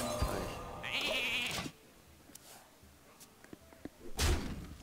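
A sheep bleat sounds from the transform-into-sheep spell in the Hearthstone card game, a bright wavering cry near the start among other game effects, followed by quieter clicks and a closing thud.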